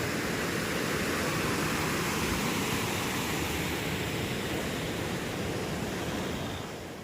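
The Pamba river runs swollen and strong in heavy rain, giving a dense, continuous roar of rushing water that stays loud and steady throughout and fades slightly at the very end.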